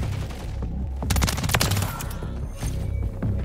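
Ray gun fire in Modern Warfare 3 multiplayer comes as bursts of rapid, loud shots and crackling impacts over a busy game soundscape, with brief lulls between volleys.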